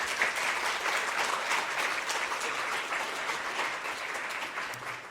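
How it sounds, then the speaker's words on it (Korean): A church congregation applauds steadily, a dense wash of clapping hands that holds for several seconds before tapering slightly. "서로 또 하나님께 영광의 박수하면서 서로 격려하겠습니다"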